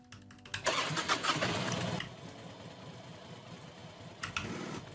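Motorbike engine starting in the video game Warnet Life 2, a short cranking burst that catches into a rough, chugging idle, then fades to a low putter before a brief rev near the end.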